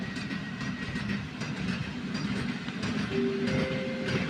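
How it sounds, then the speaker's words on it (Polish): A delayed Intercity passenger train, the IC Wigry service to or from Mockava, runs through a Polish station with a steady, loud rolling rumble and clattering wheels, and a thin wheel squeal rises near the end. "Opóźniony pociąg Intercity ze stacji Moskawa do stacji Szczecin Główny"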